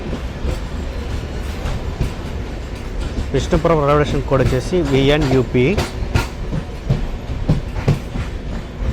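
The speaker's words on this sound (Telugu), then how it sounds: "మన ట్రైన్ విష్ణుపురం జంక్షన్ నుంచి అయితే బయలుదేరిపోయింది" A passenger train departs Vishnupuram junction with a steady near rumble and repeated clanks, while someone talks over it through the middle stretch.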